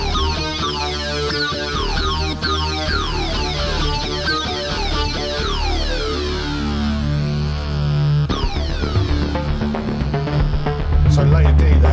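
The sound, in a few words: Korg Wavestate synthesizer synth sync sound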